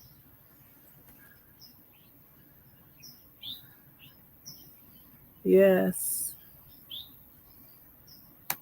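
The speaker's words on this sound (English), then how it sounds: "So many birds." Birds chirping outdoors around a tiny house, giving scattered faint, brief tweets spread through the stretch, with a short spoken word and a louder burst in the middle.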